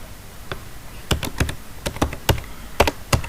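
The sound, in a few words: typing on a computer keyboard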